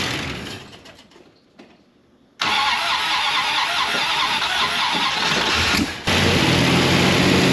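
A 383 V8 in a Chrysler Newport left abandoned for four decades cranks briefly, then catches and roars into a loud, steady running rumble with a short dip near the end.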